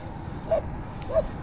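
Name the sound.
group of stray dogs barking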